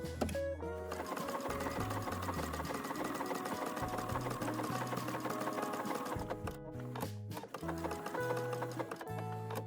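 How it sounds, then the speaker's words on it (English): Sewing machine stitching appliqué onto a quilt's background fabric, running in a steady, loud mechanical whir close up, with a rapid regular needle rhythm and brief pauses and speed changes toward the end. "My stitch is on my background fabric E, and it just nips into the applique to secure it."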